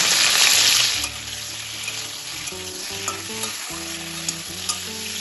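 Sliced pointed gourd drops into hot mustard oil with a loud burst of sizzling that quickly settles into steady frying, broken by a few light stirring knocks.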